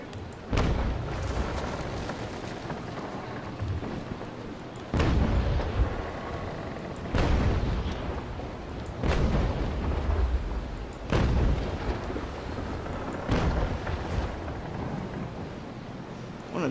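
Ship cannons fire in Naval Action, heavy booming shots landing every couple of seconds over a steady, rumbling sea-and-wind bed.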